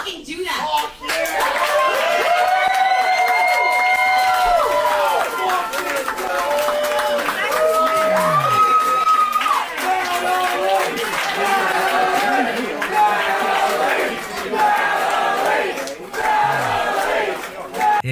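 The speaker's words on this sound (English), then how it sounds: "The crowds cheer" Live audience at a sold-out stand-up comedy show, a loud crowd cheering, whooping and clapping continuously, with voices shouting over the noise.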